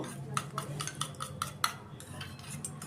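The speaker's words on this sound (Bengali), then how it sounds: "এরপর এগুলোকে গুলে নেব, বেশ ভালো করে মিশিয়ে নেব" A spoon stirs a sauce mixture with sugar and pepper powder in a bowl, making quick rhythmic clinks against the rim, about eight close, light taps over a low background.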